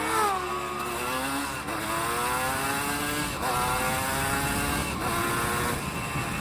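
A Honda CRM 250 AR two-stroke motorcycle engine, a raspy, buzzing note rising through revs in several pulls with brief drops between, loud and close with no voices.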